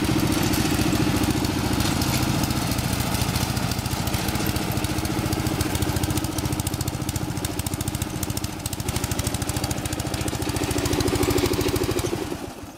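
A riding lawn mower engine runs steadily at a close distance with an even, buzzing drone that holds throughout and dips slightly at the end, with no talk.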